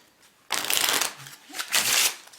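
A Smoke & Mirrors V2 playing card deck on Aristocrat stock, slightly clumping and not yet broken in, is riffle shuffled in two close, crisp bursts of rapid card flutter, with no talk over it.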